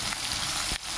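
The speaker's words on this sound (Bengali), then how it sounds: "এখন নেড়ে নিব" Spiced food frying in a pan as it is stirred, a close, continuous sizzle with a brief scrape near the end, no voices.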